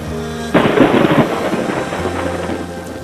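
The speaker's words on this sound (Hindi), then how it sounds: "मौसम बहुत तूफानी हो रहा है।" A sharp thunderclap bursts out of a quiet room tone and rolls into a long rumbling decay, with steady rain hissing underneath during a stormy spell.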